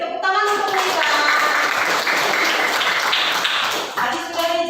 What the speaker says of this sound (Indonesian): Beri tepuk tangan untuk Lisa.